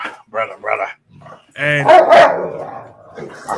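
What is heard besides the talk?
dogs barking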